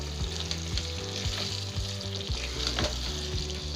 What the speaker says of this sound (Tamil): இப்போ நம்ம வந்து கறியை போட்டுக்கிடலாம். சிம்மிலே வச்சு நல்லா கிளறி விடணும்.